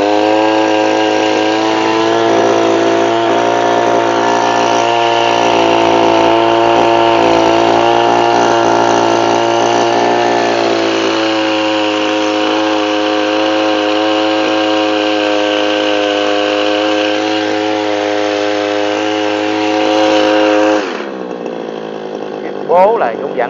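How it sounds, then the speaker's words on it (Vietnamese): A Japanese Robin pesticide sprayer's small gasoline engine runs steadily at a constant high buzzing pitch, loud and close for about twenty seconds, then cuts off and winds down abruptly. "Máy chạy rất mượt"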